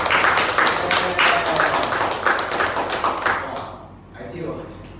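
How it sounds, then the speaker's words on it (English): Audience at a basic infant first aid and CPR training session claps in a loud burst of uneven taps and slaps that thins out near the end, with voices mixed in. "Give a round of applause."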